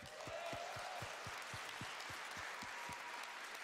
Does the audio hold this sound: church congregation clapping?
yes